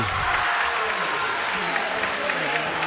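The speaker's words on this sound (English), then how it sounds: "And the crowd roars." A basketball crowd roars and claps loudly after a made three-pointer, a dense, sustained wall of cheering and applause with voices mixed in throughout.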